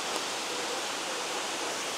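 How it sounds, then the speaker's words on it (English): A powerful waterfall roars steadily, a continuous, even wash of rushing water with no breaks or other sounds, heard from fairly close. "I want to capture that powerful might of the waterfall"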